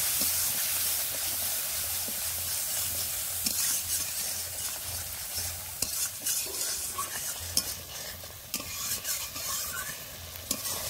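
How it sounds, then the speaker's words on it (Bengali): Turmeric and Kashmiri red chili powder stir-fried in oil in a pan for a fish curry: a continuous sizzle and hiss, with the scrape and clatter of stirring rising at intervals, no voices. "এবার ভালো করে কষে নেব।"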